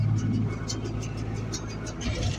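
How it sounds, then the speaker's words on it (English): John Deere 4240 tractor running steadily with a low engine drone and mid-range whir as the PTO engages to drive a Vermeer 605K round baler in a hay field, continuous and close throughout. "I'm going to grab B1, gently engage my PTO,"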